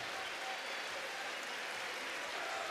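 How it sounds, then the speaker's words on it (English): A packed Cameron Indoor Stadium crowd at a Friday night college basketball game cheers and applauds, a dense, even roar that holds steady throughout and sounds somewhat distant. "this Cameron crazy crowd has come alive on this Friday night"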